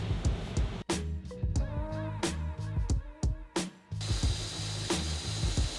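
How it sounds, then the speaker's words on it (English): A drill bores out a 3/8 inch hole in a metal bracket for a Tacoma engine bay, loud and close, with stop-and-start whirring and ratcheting grind broken by brief pauses. "So here, I'm drilling out about a 3/8 inch hole."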